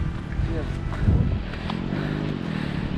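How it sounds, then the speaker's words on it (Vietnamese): Motorcycle engine sputtering and popping unevenly as it nearly runs out of petrol, a close, rough low rumble with a brief louder burst partway through. "Hình như cái máy nổ có vấn đề rồi. Sắp hết xăng hay sao ấy, lục bụp vậy."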